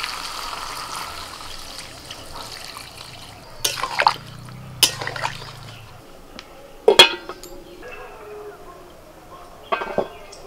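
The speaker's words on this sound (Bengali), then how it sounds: "এবার জল দিচ্ছি।" Water goes into a pot of chicken curry with potatoes, a soft low pour lasting a couple of seconds, set among sharp metallic clinks of utensils against the pot and quiet background noise.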